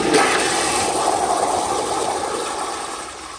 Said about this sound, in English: So here is a flush on full pressure.